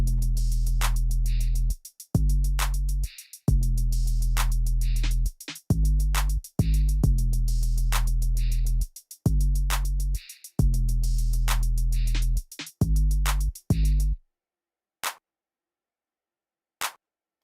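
A steady, punchy drum pattern with deep bass hits and crisp clicks repeating in a simple loop, then stopping, followed by two isolated taps.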